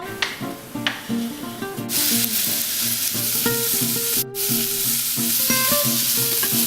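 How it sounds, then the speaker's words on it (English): Onions and celery sautéing in oil in a pan over medium-high heat, a steady close sizzle with brisk scraping and stirring strokes throughout. "over a medium-high heat, you add the onions and celery"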